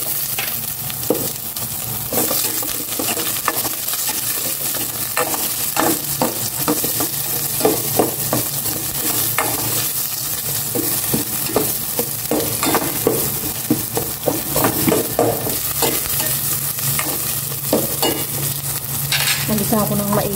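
Onions and chilies sautéing in a hot pan, loud continuous sizzle with constant stirring and spatula scraping for the whole stretch, no talking.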